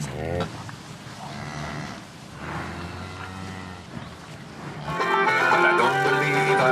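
Cattle mooing during a milking session at a herder's camp in Mongolia, several drawn-out lowing calls overlapping close by, louder and fuller toward the end, with no talk over them.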